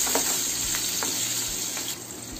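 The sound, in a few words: frying okra with gram flour on medium heat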